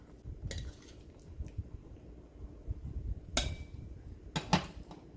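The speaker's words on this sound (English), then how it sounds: "I give it a stir." A spoon stirs chicken pumpkin soup with yellow yam, potatoes and eddoes in a pot. Quiet sloshing runs under several sharp metallic clinks of utensil against pot, the loudest near the end.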